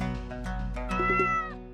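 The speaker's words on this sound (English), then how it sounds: "The cat! We found it!" A single ginger cat meows in a detective murder-mystery video game set on the Yangtze River, one drawn-out, close and clear call lasting under two seconds, with no talk over it.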